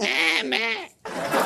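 A goat-like bleat, apparently a human voice imitating a goat on a reality TV show, comes in two loud, wavering bursts split by a short pause.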